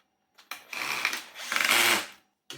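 A powered screwdriver drives screws while a Dyson DC40 Mk1 vacuum cleaner is reassembled, giving two close whirring bursts of about half a second each, separated by a short pause, with no talking.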